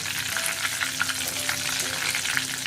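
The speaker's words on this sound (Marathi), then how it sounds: "आता मिरची फ्राय करून घेऊया" Green chillies fry in hot oil, a dense, continuous sizzle with bubbling crackles close up and no talking.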